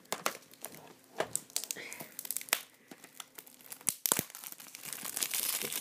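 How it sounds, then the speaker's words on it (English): Plastic wrap crinkles and tears as it is peeled off a Call of Duty: Modern Warfare 3 PS3 game case, in close, irregular crackling bursts that grow busier toward the end. "Get the plastic off."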